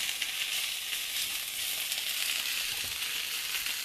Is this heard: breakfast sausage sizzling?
yes